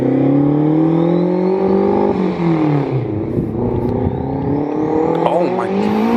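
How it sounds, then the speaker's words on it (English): A right-hand-drive, turbocharged AWD Honda Civic wagon with a GT3076 turbo accelerates hard nearby, its engine note climbing through the gears with dips at each shift, while a thin turbo whistle rises over the roar. "that turbo comes in"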